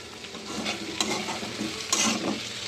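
Chopped potatoes frying in a pan with a little oil while being stirred, a steady close sizzle broken by sharper scraping strokes of the spoon, with no talking.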